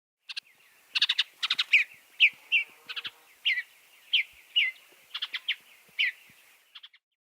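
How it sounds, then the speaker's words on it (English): Bluebird song: a run of short, bright chirps and warbled notes in clusters, clear and fairly close, with brief gaps between phrases and no voices. "Bluebird."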